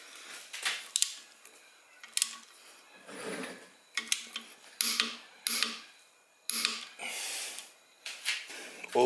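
Metal parts clink and ratchet intermittently while an oil pump is bolted onto a Chevy 372 engine, with short bursts of clicking and scraping separated by brief pauses, close and fairly quiet.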